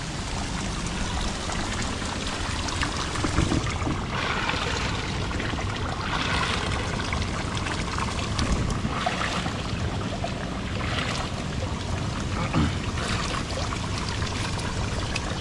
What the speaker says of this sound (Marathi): हे पाणी परत नदीमध्ये जातं